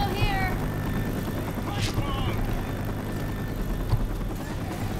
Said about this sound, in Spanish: Ah, son un helicóptero.